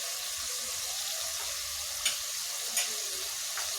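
Ginger garlic paste sizzling with meat in a hot pan over low-medium heat, a steady close frying hiss with a couple of faint stirring clinks and no talk.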